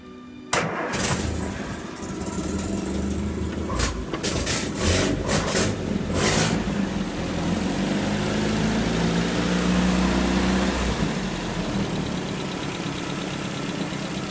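A 1967 Land Rover Series 2A engine, freshly adjusted at the carburetor, fires up with a few sharp turns and then runs at a steady, fairly loud idle close by for the rest of the stretch, with no talking.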